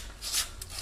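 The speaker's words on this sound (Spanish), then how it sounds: "le daremos un toque de lija al casquillo de la misma para que realice un buen contacto" Sandpaper rubbed briefly over the metal base of a fridge light bulb: two short, close scratchy strokes, the first longer and stronger, with no talking.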